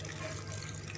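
Water poured into a bowl of mint yogurt chutney in a home kitchen, a steady soft trickling splash that runs unbroken through the short moment, fairly quiet with a low hum beneath.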